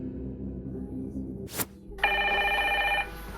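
A telephone bell rings once, a loud electronic trill lasting about a second, after a brief thump and some low background noise.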